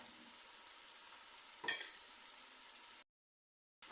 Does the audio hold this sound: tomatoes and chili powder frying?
yes